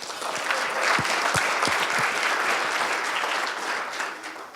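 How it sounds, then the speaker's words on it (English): An audience at an Oregon business forum gives a sustained round of applause, dense steady clapping from a fairly large room that tapers slightly at the end. "So let's give them a round of applause as well."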